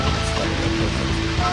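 Steady rain patters and hisses in the video game Deadly Premonition, a continuous even wash at moderate level with faint tonal game sounds underneath.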